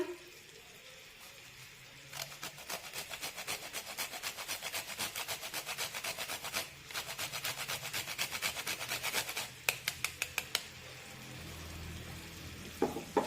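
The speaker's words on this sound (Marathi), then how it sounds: "साधारण पाव चमचा जायफळ किसून टाकूया" Nutmeg is grated over a pan of filling for wheat-flour steamed modak, making a rapid, rhythmic run of close rasping strokes with a few brief pauses over a low background hiss.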